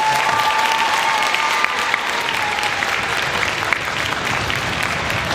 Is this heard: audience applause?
yes